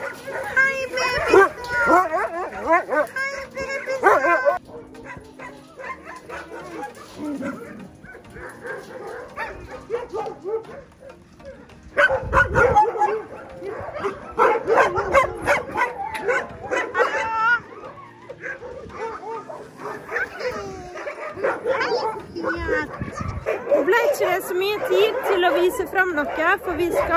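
Several dogs bark, yip and whimper excitedly at an outdoor spot where they are about to be let loose, in uneven bursts close by, mixed with a person talking and calling to them.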